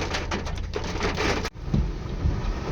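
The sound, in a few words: heavy rain with thunder heard from a car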